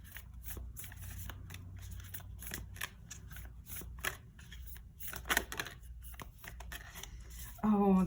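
Moon oracle cards for a tarot reading are shuffled in a rapid, close run of soft riffling flutters and slaps, with a brief voice near the end.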